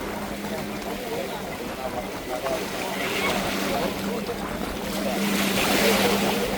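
Several boats motor past on open water near Jaffna, a steady engine drone at about 200 Hz running throughout with wind and wave noise, rising slightly as they approach.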